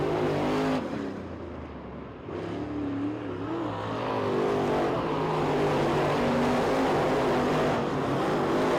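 Sprint cars racing on a dirt track during a B-Main heat at the Winter Nationals, engines roaring steadily and close, with a brief dip in volume before rising again into continuous high-revving drone.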